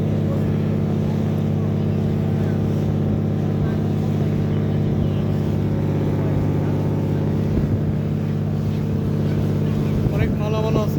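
A passenger launch's engine drones steadily and loudly as the boat arrives at the Monpura shore near Janata Bazar, with a constant low rumble and a voice faintly underneath.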